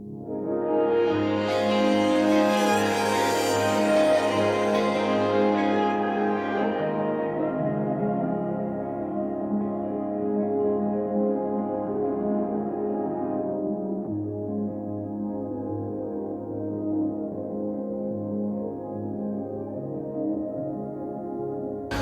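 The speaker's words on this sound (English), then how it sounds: "you could pull down the tracks filter just a little bit to take the energy out" Worship backing tracks played in Ableset as the filter is pulled down, so the bright full mix gradually turns darker and muffled, ending as a soft, dull sustained bed of sound with no talking.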